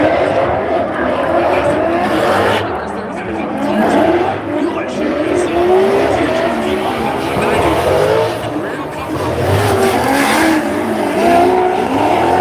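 Race cars roar through a video game race, engines droning steadily with bursts of tire squeal, while people talk over the action throughout.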